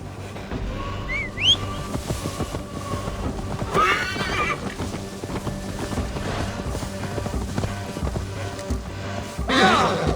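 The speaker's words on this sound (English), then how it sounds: "Now to deliver Magni his horse." A horse in Assassin's Creed Valhalla neighs loudly twice, once early and again near the end, with clip-clop hoofbeats and game ambience running steadily underneath.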